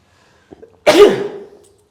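A single sneeze: a short intake of breath, then one sharp, loud burst that trails off quickly. It is close by, with no talking.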